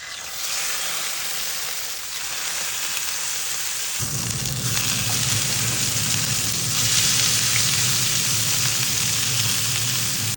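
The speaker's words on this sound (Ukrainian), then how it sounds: "Тепер на дуже розігріту сковорідку вниз шкірочкою ми кладемо наші грудки на 5 хвилин." Loud, continuous sizzling and crackling of duck breasts frying skin-side down in a very hot dry pan with no oil, turning fuller and heavier after a few seconds.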